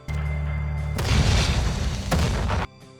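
Explosions in the video game Weird West, likely from a grenade or barrels: a low rumbling boom follows a steady hum, then a second blast lands a second later, loud and close, with no talk.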